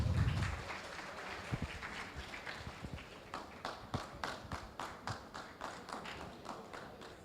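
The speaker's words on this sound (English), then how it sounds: "Use round of applause." A smattering of hand claps at a Google Cloud Community Day event in Indore, scattered at first and settling into a loose, slightly uneven rhythm, moderately close with no talking over it.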